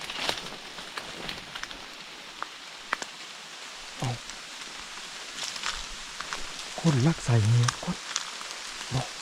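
Rain falling in a forest during a hunting outing, a steady soft hiss with scattered drops and rustling throughout, while a person speaks briefly near the end.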